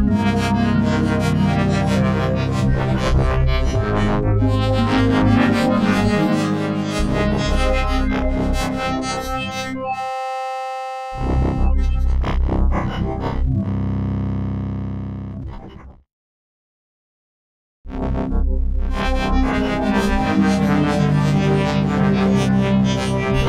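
A Behringer Wave wavetable synthesizer plays jumpy, bouncing notes spread across the stereo field, bright and buzzy with distortion-like grit and sustained chords, stopping briefly twice before resuming loudly.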